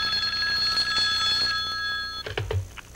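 An old public telephone rings with a bright, sustained metallic bell tone for about two seconds, then stops, followed by a few soft knocks and clunks nearby.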